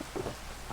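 Rain and thunder in a Minecraft-style game world: a dense, steady hiss of rainfall with a low rumble swelling briefly, heard for under a second and without voices.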